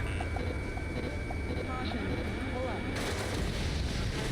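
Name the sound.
howitzer artillery fire in the video game Ace Combat 7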